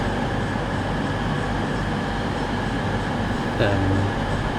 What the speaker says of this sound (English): Please stand clear. Stand back from the platform edge. Fast train approaching.